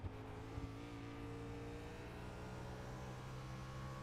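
Race cars on the Charlotte Roval road course roar through a fast chicane during a NAISCC playoff race, a steady, loud engine drone with shifting pitch and a brief surge near the start.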